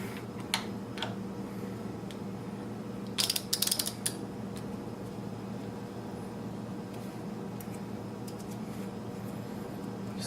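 A ratchet tightens the bar end on a Yamaha FZ09 motorcycle after Driven D-Axis grips are fitted: a short burst of rapid clicks over a steady background hum, with no voices.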